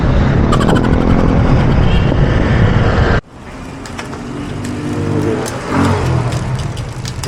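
Heavy road traffic with cars and motorcycles passing, loud and broadband at first, then a sudden drop to a quieter stretch where engines build again and pass nearby, heard from the vantage of a bike ride.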